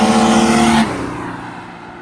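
A loud turbo diesel Mercedes OM603 engine with a large turbo roars under acceleration, then the tone drops and fades as the revs fall away.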